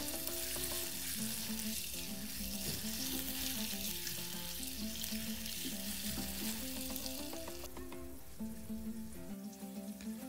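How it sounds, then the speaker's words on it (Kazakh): Liver frying in a pan until golden: a steady close sizzle runs throughout at low level, with a soft musical backing underneath and no talk. "алтын түстес болғанша қып-қызыл етіп қуырып алу өте маңызды"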